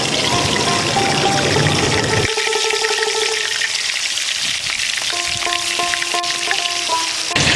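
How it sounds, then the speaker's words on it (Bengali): River vola fish fry in hot mustard oil in a kadai, a loud, continuous close-up sizzle with faint tonal ringing over it and no voices. "তেল গরম হয়ে গেছে, এবার মাছগুলো ভেজে নেব।"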